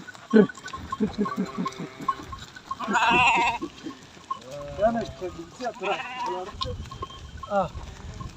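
Sheep and lambs bleat repeatedly at close range in a Turkish village flock, with several overlapping calls of varying pitch rising over a farmyard background, while people talk between and under the bleats.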